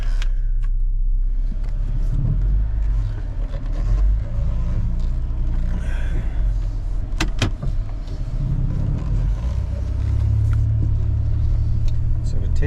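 A Dodge Caravan with a fluctuating engine temperature is taken out for a test drive, its cabin filled with a steady low rumble of engine and road noise that holds constant throughout, with a few faint knocks.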